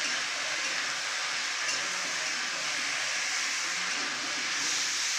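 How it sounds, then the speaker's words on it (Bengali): Cabbage fries in a pan for a vegetarian dish, giving a dense, even hissing sizzle that holds steady and loud for several seconds with no voices. "দিয়ে এবার ভাজা ভাজা হোক সবজিটা।"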